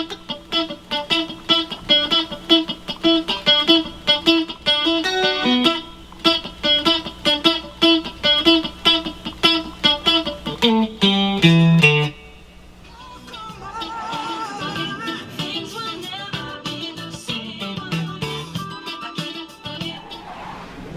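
Guitar riff plucked in a steady rhythmic run of bright single notes and chords, then a softer, looser strummed passage follows, played alone with no talking.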